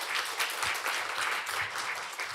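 An academic conference audience gives a warm round of clapping at the close of a keynote session, a short burst of many hands at moderate loudness with no voices.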